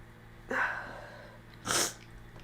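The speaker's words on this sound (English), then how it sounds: "Oh, I have a sneeze coming." A person sneezes once nearby indoors. A sharp, breathy intake comes first, and a loud explosive burst follows about a second later against a quiet background.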